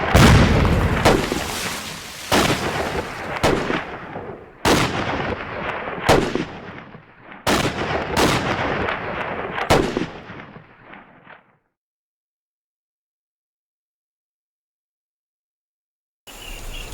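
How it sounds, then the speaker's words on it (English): Bursts of gunfire and heavy booms from a Bren gun and artillery in the Kokoda VR war game, a series of loud sharp cracks with decaying tails over about eleven seconds, then silence before a final burst. "Bruce is firing his Bren gun from the hip"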